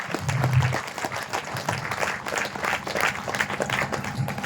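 An audience at a speech event breaks into steady applause, a dense, moderately loud wash of clapping that carries evenly through the whole moment.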